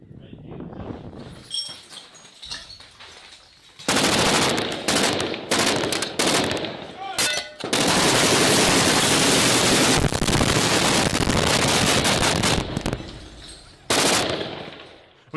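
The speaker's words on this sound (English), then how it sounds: "You can hear some fire coming their way, it seems there." Bursts of automatic gunfire and scattered shots in the Ukraine war, with a long sustained volley in the middle, loud and near, broken by quieter gaps.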